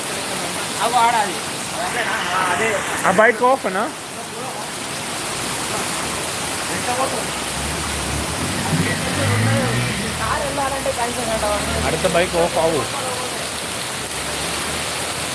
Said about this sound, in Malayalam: ഹൈദരാബാദിൽ പുതുച്ചക്കോട്ട എന്ന് പറയുന്ന സ്ഥലത്താണ് ശക്തമായിട്ടുള്ള മഴ